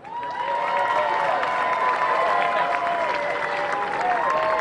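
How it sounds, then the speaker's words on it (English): Sustained crowd applause with scattered cheers at the 2016 Texas Cavaliers River Parade in San Antonio, loud and steady throughout. "Join me in a round of applause for this year's Texas Cavalier River Parade Marshal, Walter Trey Embry."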